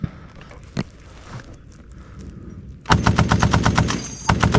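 Belt-fed World War II machine gun firing rapid, evenly spaced bursts of loud, sharp shots: one sustained burst, then a second starting just as it ends, after a quiet stretch with a single faint thud.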